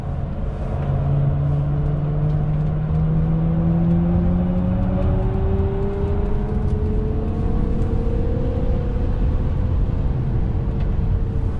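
A Tesla Model 3 Performance in track mode laps a race course, its electric motor a steady whine that rises and falls in pitch under constant road and wind roar, no voices.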